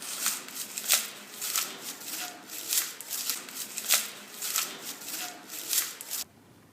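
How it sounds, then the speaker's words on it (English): Crunchy footsteps through dry leaves, close and steady, with roughly a dozen brisk steps over several seconds before the sound cuts off abruptly. "This is the sound of walking on leaves."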